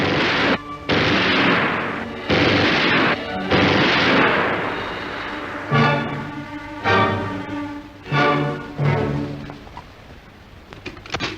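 An LE light machine gun fires in a Wehrmacht training setting: loud bursts of rapid shots separated by short pauses, harsh and close, with faint ringing decay between volleys.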